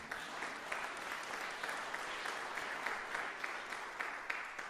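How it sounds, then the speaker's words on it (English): A festival audience at the International Low Brass Festival claps for itself, producing a continuous, even wash of applause from a sizeable crowd that stays fairly soft and distant for the whole stretch. "Give you a round of applause for yourself for coming out tonight."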